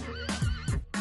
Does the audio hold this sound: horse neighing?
yes